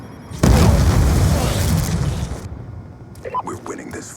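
A sticky grenade detonates in Black Ops 2 multiplayer, a loud, close boom that rolls and fades over about two seconds before scattered smaller in-game sounds follow.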